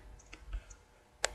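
A single sharp computer mouse click adding a question to a question bank, crisp and close, preceded by a few faint ticks in an otherwise quiet room.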